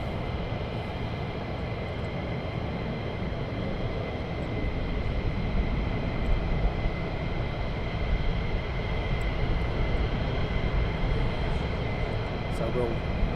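A military jet taxiing on the runway at RAF Lakenheath, a steady loud engine roar and whine from a distance that holds constant throughout with no voices heard.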